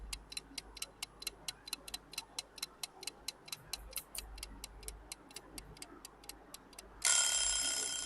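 A quiz countdown timer ticks steadily, about three crisp ticks per second, close and clear, then a loud bright ringing chime bursts in near the end.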